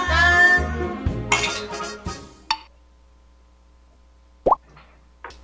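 Drinking glasses clink in a cheers toast: speech and laughter first, then a quiet pause, followed by a single sharp, bright clink, with a faint clink near the end.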